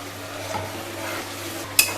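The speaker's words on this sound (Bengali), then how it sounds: "এগুলো আমি সব একসাথে ভালো করে একটা মশলা কষিয়ে নেব।" Spices sizzling in a pan as a masala is fried down for a nargisi kofta curry, with a continuous soft sizzle and low stirring, ending in a short sharp scrape or clink.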